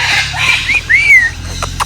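A parrot at the Parrot Mountain bird garden in Pigeon Forge, Tennessee, gives a few loud, close rising whistles and squawks in quick succession over faint background noise.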